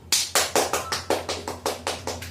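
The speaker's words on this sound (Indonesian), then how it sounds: "Beri tepuk tangan terlebih dahulu buat Ginar" Classmates clap for a student at the board during a microteaching lesson: about ten quick, close, even claps in a steady rhythm over a low room hum.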